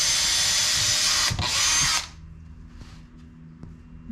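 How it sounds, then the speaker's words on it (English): A power drill bores holes into roughly three-quarter-inch-thick wood while building a birdhouse, a loud steady whine for about two seconds, a brief dip, then a sudden stop followed by quiet handling clicks. "just drill in a little bit, because this is like 3/4 of an inch to an inch thick"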